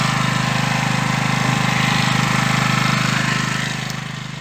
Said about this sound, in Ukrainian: Знову працює наш генератор.